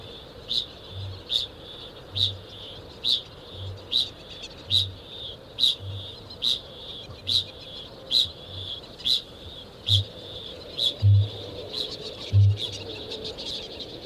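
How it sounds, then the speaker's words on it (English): A kākāpō, the nocturnal night parrot, gives a regular series of deep booming calls, each low pulse repeating about every second alongside sharp high ticking notes, steady and close in a quiet natural setting. "Kākāpō."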